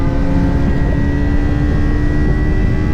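A motorcycle engine gives a steady, loud, close droning roar that holds without a break and has no talk over it.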